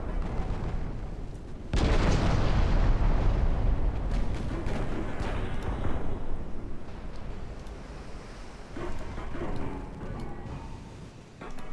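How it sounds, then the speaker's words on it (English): Big naval gun shells, including 14-inch guns, fire and explode in a US naval campaign video game, a sudden massive boom followed by a long rumbling roar that slowly fades, with a smaller blast near the end. "here come the big shells"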